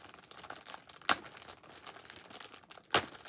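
A plastic bag holding a bundle of thrifted scissors is crinkled open, with two sharp, close crackling bursts over a quieter, steady rustle.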